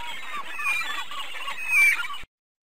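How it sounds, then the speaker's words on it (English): Seagulls calling in a steady, busy chorus of overlapping cries, moderately loud and continuous before cutting off abruptly. "Seagulls."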